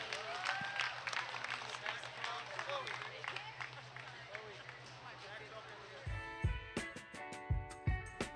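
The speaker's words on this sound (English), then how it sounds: "If we could give everybody a round of applause" An audience at a county fair market goat show applauds under steady crowd chatter and murmuring, the clapping fairly faint and scattered before sharper, louder claps pick up near the end.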